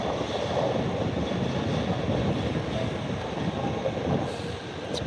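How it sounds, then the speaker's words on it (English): A long, mostly empty Yamanote line train passes in Tokyo, giving a steady, loud rumbling roar of wheels and cars that holds throughout and eases slightly at the end, with no talk. "wait for another pass of the Yamanote line"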